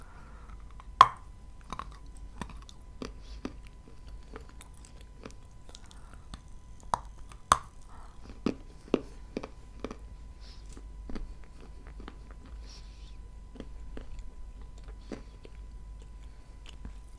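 Blue Uzbek edible chalk pieces being bitten and chewed close up, a series of sharp crunchy snaps spaced irregularly, several louder bites early on and softer crunches later, with no talking.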